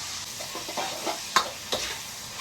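Ridge gourd stir-fries in plenty of oil with green pepper strips, scallion, ginger and garlic, making a soft sizzle broken by several sharp spatula scrapes and clacks against the wok.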